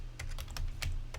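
Several quick keystrokes tap on a computer keyboard while a command is entered in Octave/Matlab, close and fairly soft, with uneven clicks and no voices.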